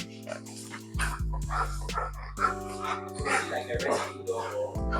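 A dog whimpers and barks in a run of short yips and whines close by, with a person talking over the sounds.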